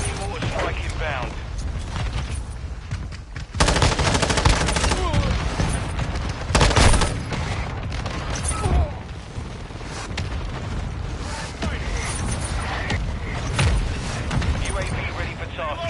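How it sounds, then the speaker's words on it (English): Mortar strike explosions in the video game Modern Warfare 2 mix with a dense stretch of gunfire and heavy blasts, loud and continuous with sharper bursts swelling throughout, while a voice talks over the action. "Friendly mortar strike inbound."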